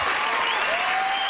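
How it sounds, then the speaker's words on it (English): Sustained applause from a sitcom studio audience, a dense, steady wash of many hands clapping at an even, loud level throughout with no voices standing out. "The problem with this applause is it's like 30 seconds long."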